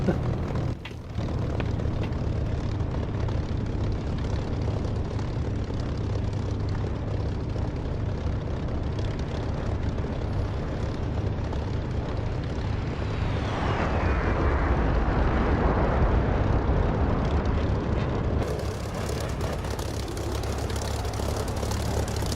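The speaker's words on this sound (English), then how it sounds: "go in for landing now, come on the canopy out and gear down." A jet aircraft in the DCS flight simulator game comes in to land, its engine a steady loud roar throughout that swells and rushes harder in the second half, with no speech over it.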